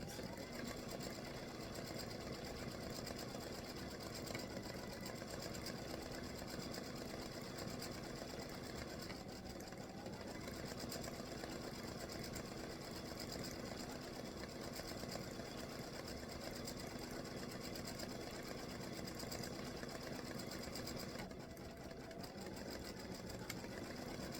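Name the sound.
embroidery machine stitching hibiscus lace design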